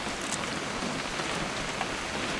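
Steady rain falls in the video game What Remains of Edith Finch, an even, dense patter on surfaces that continues without a break.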